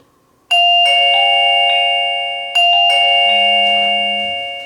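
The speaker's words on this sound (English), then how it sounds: "we'll go ahead and press this bottom button of the doorbell" A Mubview wireless doorbell chime rings twice in succession, each a bright multi-tone ding-dong that rings out and slowly fades, loud and close with no talking.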